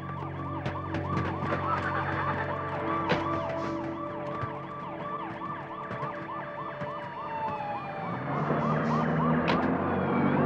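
A police car siren wails steadily as the vehicle arrives, a loud repeating rising-and-falling tone that carries through the whole stretch with a low engine rumble beneath, swelling slightly near the end.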